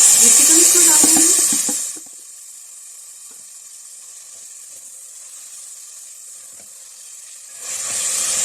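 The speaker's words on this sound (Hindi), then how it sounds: "चिकन को तकरीबन 2 मिनट तक इसमें ऑयल में फ्राई करने के बाद" Chicken frying in oil with green chilli paste, a loud sizzling hiss that drops to a quiet simmer, then flares up again near the end, with a voice speaking over it.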